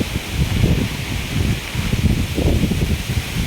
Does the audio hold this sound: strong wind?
yes